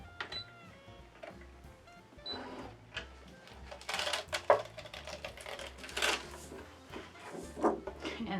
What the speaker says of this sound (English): so I'm going to unload the mat.